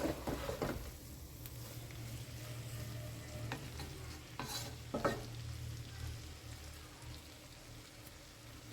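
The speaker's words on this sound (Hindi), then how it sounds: "बस इसको 1 मिनट भूनते हैं इसके साथ और फ्लेम ऑफ करते हैं" Dal frying in a pan with its tempering, a soft low sizzle with occasional stirring scrapes and clinks, fairly quiet and close.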